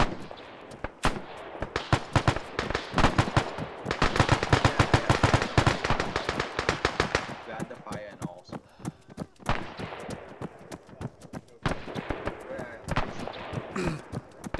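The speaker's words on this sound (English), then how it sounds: "Machine gun." Machine gun fire crackles through a World War II battle game set on Wake Island, with dense bursts of rapid shots in long runs and brief pauses, loud and close, while players talk over it.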